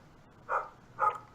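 A dog barks twice in a backyard, two short, muffled barks heard from a distance behind a window, evenly spaced about half a second apart.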